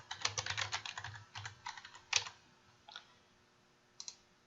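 Computer keyboard typing as a class name is entered, quick bursts of close, quiet key clicks followed by a few isolated taps.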